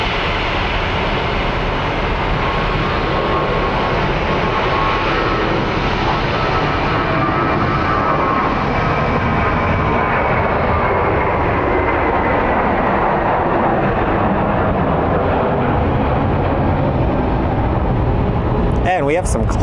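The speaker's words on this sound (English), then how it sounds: "let's go take a look at American 1541 that's departing for Vegas" American Airlines flight 1541 departs Phoenix Sky Harbor for Las Vegas as a loud, continuous jet engine roar that holds steady and near for the whole stretch, with a click at the very end.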